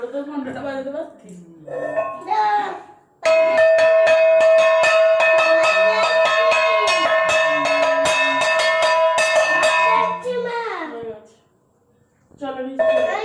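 A hand bell rung during home evening worship, clanging rapidly and continuously for several seconds, loud and close, with voices talking before and after the ringing.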